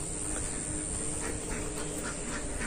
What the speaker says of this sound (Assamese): এইবিলাক হাঁহ আছে পেক পেক কৰি আছে